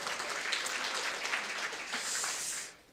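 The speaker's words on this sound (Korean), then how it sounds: "박수 한번 보내시죠." A seated audience at a business presentation claps together in a steady, dense burst of applause for about three seconds before it quickly dies away.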